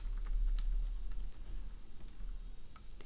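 Quiet, rapid typing on a computer keyboard, a steady patter of soft close key clicks with no talking.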